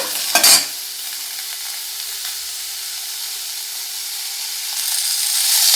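Onions hit hot oil in a pan and sizzle at once with a loud splash and burst, then settle into a steady bright hiss that swells slightly toward the end. There is no talking.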